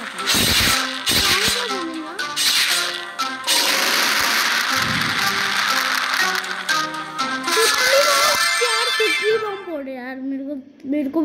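A mobile phone ringtone plays loudly indoors during Diwali celebrations, a repeating electronic melody with bright tones that carries on for several seconds, then fades into a gliding tone, while a person talks nearby.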